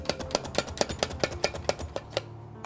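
A knife minces food on a cutting board in a home kitchen during quiche preparation, a quick, regular run of close, crisp taps that stops abruptly near the end.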